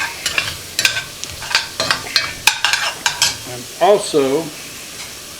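Banana and jalapeno peppers sizzle in a black cast-iron pot while a spoon scrapes and stirs in repeated sharp strokes, close and clear, with a brief voice speaking near the end.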